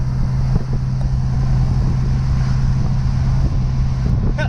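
A 1985 Mustang LX 5.0 convertible on the road, its V8 droning steady and loud beneath heavy wind rush across the open cabin, constant throughout without any talk.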